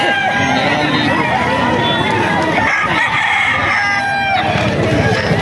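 Rooster crowing among a flock of chickens, loud and close, with people chatting and a general hubbub of voices underneath.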